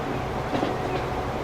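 A double-decker train rolls steadily in the Transport Fever 2 game, with a continuous low rumble and a faint rhythmic clatter, set in East Yorkshire, UK.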